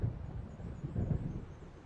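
Thunder from an approaching storm in Alan Wake, low distant rumbling that swells and fades, mixed with wind noise and no talk.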